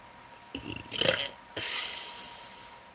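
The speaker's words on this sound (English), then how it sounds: "I got the burps like crazy." Several loud, close burps from a man follow one another over a few seconds, the last one long and drawn out, with no talking in between.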